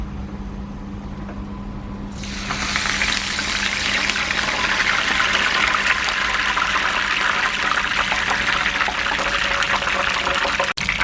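Cauliflower pieces and a handful of curry leaves hit deep hot oil, bursting into a loud, dense crackling sizzle after a quieter start that keeps bubbling steadily to the end.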